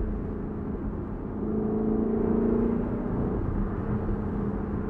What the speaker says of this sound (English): It's amazing how much the exhaust just echoes.